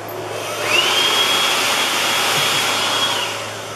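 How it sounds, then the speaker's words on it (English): A hot air hair dryer in a campground bathroom starts up with a rising whine, then blows a loud, steady roar for a few seconds before tapering off, with no voices. "Hot air hair dryers."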